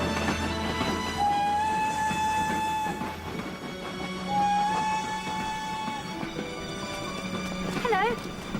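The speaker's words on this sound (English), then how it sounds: "The next train on platform 1 is the 4:50 from Paddington." A train pulls into platform 1 of a railway station, the 4:50 service from Paddington, with a steady rolling rumble and sustained tonal sounds across the whole stretch and a brief warbling tone near the end.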